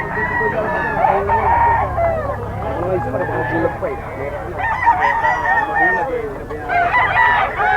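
A stag rooster at a busy pet market crows repeatedly among other honking and clucking fowl, loud and close, with people chatting throughout.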